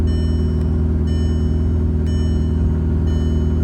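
A Volkswagen 1.8T turbocharged four-cylinder on an upgraded engine harness idles steadily just after starting, a loud, even low rumble with a faint high whine, close by and with no talk.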